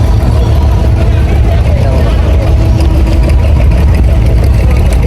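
A boat engine idles with a loud, steady low rumble that continues throughout without change.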